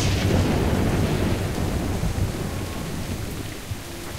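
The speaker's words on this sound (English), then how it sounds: "This storm is only gonna get worse." Heavy rain and rolling thunder from a thunderstorm on the island in Jurassic Park, a loud continuous roar that stays dense throughout with no voices.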